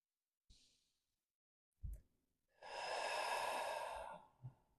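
Slow breathing during a yoga session: a brief soft exhale, a short sharp intake, then a long, steady, close breath out, with no talking.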